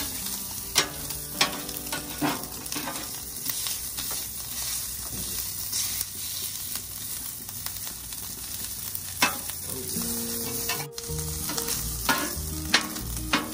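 Brisket grilled cheese sandwiches sizzle on a 36-inch Blackstone griddle, a steady bright crackle with intermittent spatula scrapes and taps as they are slid and flipped, and no talk.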